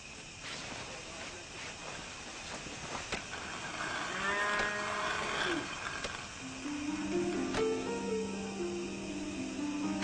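Cattle lowing in a rural farmyard, a long deep moo swelling near the end amid a hissy outdoor background, with a faint earlier call.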